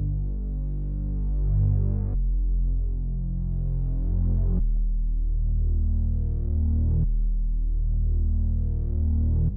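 A growling Moog synth bass in a hip-hop beat plays long, heavy sustained notes that shift pitch every couple of seconds. It throbs loud and steady on its own, with no voices.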